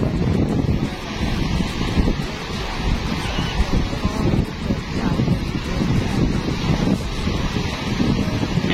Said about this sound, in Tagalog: Lakas ang hangin.